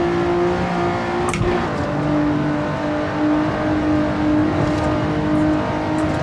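A car engine drones steadily in a racing simulator driven with a Fanatec CSL DD wheel base, Clubsport RS wheel, V3 pedals and V1.5 shifter, its pitch rising and falling loudly throughout, no talking.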